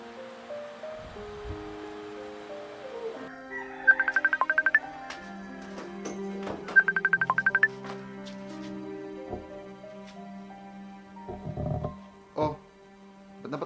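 A phone being dialed for a call, bursts of quick rapid beeping tones twice in the middle, then ringing tones over quiet background music, fairly faint.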